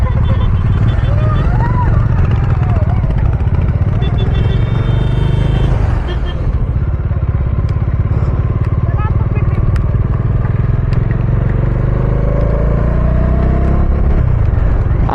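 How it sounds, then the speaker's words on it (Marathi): A motor vehicle rumbles past on a road near Dategad Fort during a heavy May rain shower, a loud, continuous engine and tyre roar rising and falling, with people talking over it. "गाडी आली, गाडी आली."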